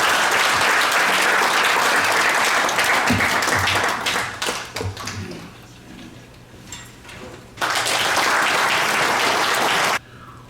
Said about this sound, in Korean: 큰 박수로 유 박사님을 맞아주시면 감사하겠습니다